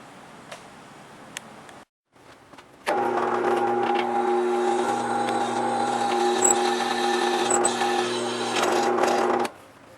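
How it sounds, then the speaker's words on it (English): A power drill bores a hole in a metal seat bracket for a Mazdaspeed3 build, its steady whining hum running close and loud for about seven seconds after a brief quiet pause, then stopping abruptly. "I'm going to go ahead now and drill a hole for the bolt"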